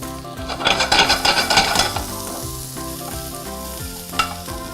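Chopped purple onion sautés in a hot pan, a loud, busy sizzle with stirring scrapes that swells early and then settles into a steadier fry. Steady tonal music plays underneath.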